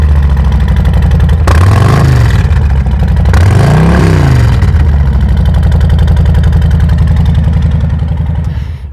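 Loud Harley-Davidson motorcycle engines idle at a dealership with a deep rumble, then rev up twice in quick swells before settling back to a steady throb.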